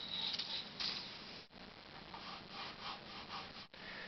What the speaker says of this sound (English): I'll scrape off the old putty